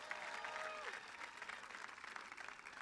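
Applause from a graduation ceremony audience at Berlin High School, a broad, steady clatter of clapping that carries through the whole stretch, with a brief tonal whine early on and a slight fade toward the end.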